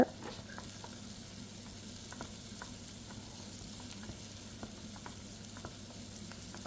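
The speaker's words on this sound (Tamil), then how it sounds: "நல்ல ரெண்டு பெரிய வெங்காயம் எடுத்து வெட்டி வச்சுருக்கிறேன் அதையும் போட்டு லைட்டாக வதக்குவோம்" Sliced onions and curry leaves frying lightly in a pan, a steady soft sizzle with occasional small pops and stirring clicks, close and fairly quiet throughout with no talking.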